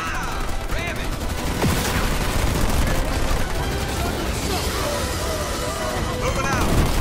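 Ground troops in Halo Wars 2 trade fire: dense, continuous bursts of gunfire and explosions, loud and close, with shouted voices over the battle.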